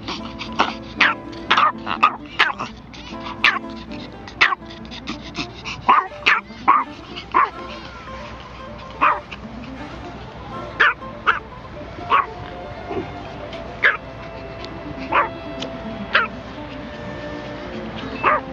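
Dogs bark again and again in sharp, irregular bursts of woofs and higher yips, with occasional whimpers, all close and fairly loud across the whole stretch, with voices faint in the background.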